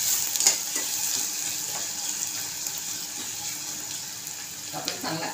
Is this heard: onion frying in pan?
yes